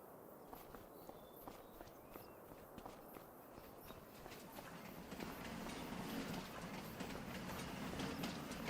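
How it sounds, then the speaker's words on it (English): A train on the Pallegney map in Farming Simulator 25 rolls past with a steady rail clatter that grows louder and denser toward the end, mixed with rhythmic footstep-like thuds and no talking. "Let's see if this train is going to be arriving soon."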